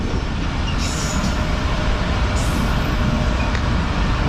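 The Allama Iqbal Express brakes hard, with a loud steady roar of rolling wheels and rail noise heard from on board, broken by a couple of high metallic squeals.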